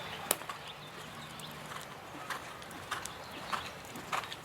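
A Thoroughbred horse walking, with soft, sparse hoof clops at an uneven pace and occasional louder knocks against a quiet outdoor background.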